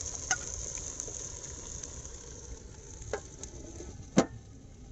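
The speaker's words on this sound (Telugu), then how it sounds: "చికెన్ అంతా పావు గంట మగ్గాలి ఇప్పుడు మూత పెట్టేసుకుందాం" Country chicken simmers in a pot for village-style biryani, giving off a faint, steady hiss broken by a few sharp metallic clinks, with no talking.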